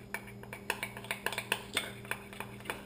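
A spoon scrapes and clinks steadily against a bowl as crescent roll icing is stirred, making a rhythmic series of light metallic taps close up.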